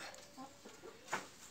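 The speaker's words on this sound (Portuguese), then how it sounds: "A galinha tá aqui" A hen clucks softly in a few short notes inside a tarp-covered rural coop during heavy rain, faint and fairly close.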